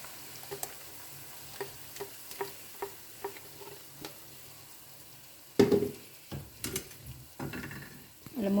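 Lemongrass and blended spice paste sauté in oil for a chilli-padi coconut chicken curry, giving a low steady sizzle with soft periodic stirring taps, then a louder burst of spoon scrapes and clatter near the end.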